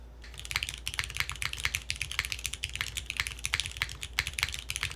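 Rapid, steady typing on a Shelby65 mechanical keyboard with a thin PCB, heard close up: a dense stream of solid, clacky keystrokes with no talking over them.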